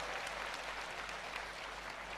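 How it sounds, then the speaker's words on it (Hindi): An audience in a hall applauds loudly for ISRO, a dense, steady wash of clapping from many hands that carries on without a break. "एक बार जोरदार तालियां हमारी संस्था इसरो के लिए बजाइए"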